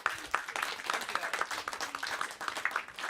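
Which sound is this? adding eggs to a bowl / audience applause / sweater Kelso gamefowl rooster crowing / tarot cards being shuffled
audience applause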